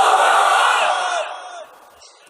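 A large religious gathering at an Islamic sermon roars a loud, sustained takbir chant of Allahu Akbar in unison, then fades out after about a second and a half.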